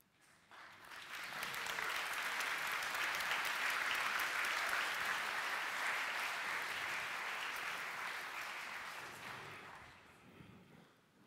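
A large audience at Nvidia's Gamescom 2018 presentation applauds steadily, swelling quickly and sustaining a dense wash of clapping before tapering off near the end.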